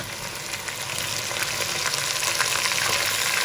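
Half a kilo of washed, drained minced meat (keema) hits a hot pan for pulao, giving a steady broadband sizzle that builds slightly and stays close and even throughout, with no talking.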